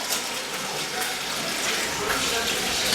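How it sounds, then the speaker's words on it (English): Tap water gushing steadily into a kitchen sink holding collard green leaves, a loud, continuous broadband rush filling the whole moment with no pauses. "And then we'll fill it with water."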